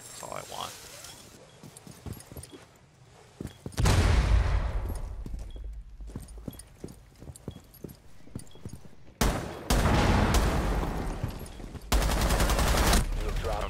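Bursts of rapid video-game gunfire from Rainbow Six Siege, loud and close in several volleys around four, nine and twelve seconds, with quieter shots and clatter between them.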